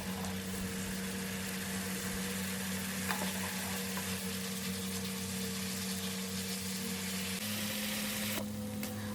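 Potato curry masala sizzling in hot oil while being stirred for an Odia aloo kasa, a steady low frying hiss with faint scraping and a constant background hum, no voices.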